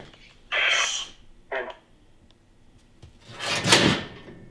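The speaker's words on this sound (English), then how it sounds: "Did you knock the saw over?" A saw topples off a shelf inside an old firehouse, giving a few sharp clattering knocks and a heavier crash near the end, with quiet breathing between the impacts and no speech.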